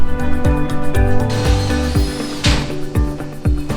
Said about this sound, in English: That pre-drill is just to get through the wood